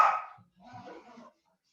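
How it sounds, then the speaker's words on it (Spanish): Pet dogs bark in a short outburst: one sharp, loud bark, then a brief pause and a rougher, more muffled stretch of barking. "no sé qué les pasa a mis perros que están vueltos locos ladrando"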